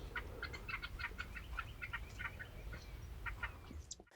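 A turkey call imitating a hen's cackle when she pitches off the roost, heard as a quick, uneven string of short, clucking notes at moderate distance over a low rumbling background, breaking off abruptly at the end.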